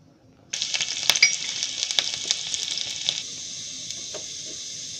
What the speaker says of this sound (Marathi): तो थोडंसं घी तापलं आहे तर त्याच्यामध्ये मिरची टाकते